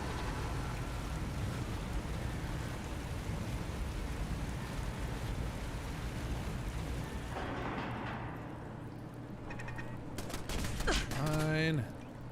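Gunfire from a turret and the player hits a big mirelurk crab monster in Sim Settlements 2, a steady, dense rattle of shots that fades after several seconds into quieter clatter, followed by a brief rising electronic whine.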